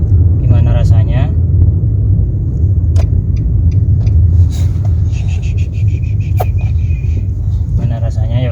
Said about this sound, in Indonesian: saya coba berakselerasi menggunakan mobil ini